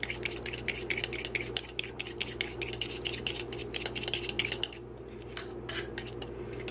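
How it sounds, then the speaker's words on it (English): A fork rapidly clinks against a bowl while cookie dough ingredients are whisked, giving a steady metallic tapping rhythm that is close and fairly quiet. It slows into a few scattered clinks near the end, with no talking. "we need to be whisking as opposed to stirring"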